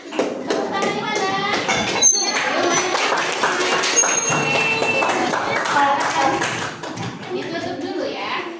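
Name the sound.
classroom applause, clapping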